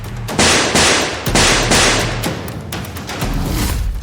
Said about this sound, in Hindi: ताबड़तोड़ गोलियां चलाई